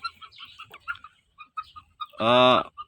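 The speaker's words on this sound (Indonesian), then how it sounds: "Kalau ini ayam lokal, ayam kampung ya." Local village chickens, a crossbred flock, cluck in short scattered calls near the listener, ending in one louder drawn-out squawk near the close.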